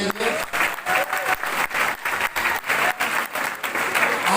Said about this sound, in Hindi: एक बार जोरदार तालियां सर के लिए।